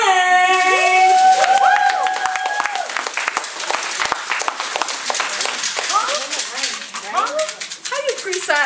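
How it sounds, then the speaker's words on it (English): An open mic poetry audience claps and stomps in a fast, dense burst of applause, with sharp hand claps and foot stomps crowding together while voices call out and cheer over the noise. "Y'all shake it, clap it, stomp your feet, shake your head, whatever you got to do for rain."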